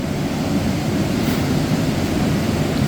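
A creek swollen by flooding flows past a February campsite, producing a steady, dense rushing roar that stays loud and unbroken from start to finish.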